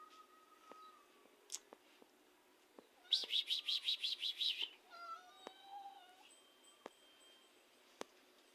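A quick burst of high, thin mews from a litter of kittens in a rapid run, surrounded by scattered bird chirps in a quiet outdoor setting.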